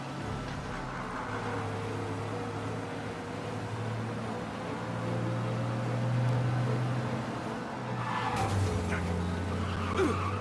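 A car engine revs hard at speed while tires squeal and skid during a police chase in the video game Mafia: Definitive Edition, the roar swelling midway and rising again near the end, with no talking.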